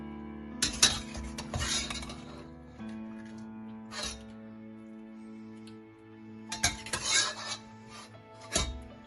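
Metal utensils scrape and clink against a plate and pan as stuffed köfte are moved onto a serving plate, bursts of close rattling and tapping separated by quieter gaps, with no talking.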